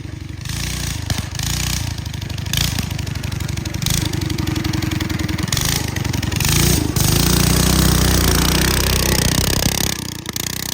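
A Honda Odyssey FL250 engine runs with its clutch stuck wide open, a loud, close, rough mid-pitched engine chugging with uneven pulsing throughout.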